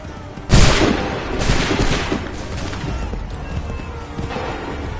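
Soldiers fire a musket volley in Assassin's Creed 3: a sharp, loud crack of massed shots, then a ragged follow-up burst and echoing scattered gunfire that fades into a low rumble.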